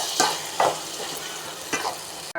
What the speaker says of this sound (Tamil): இதை எல்லாத்தையும் நல்லா ஒரு தடவை நல்லா கலந்து விடுங்க